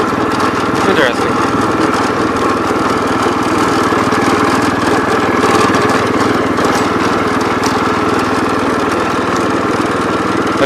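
A 1973 John Deere 110 lawn tractor driving in fourth gear, its small engine droning loud and steady at close range from start to finish with little change in pitch.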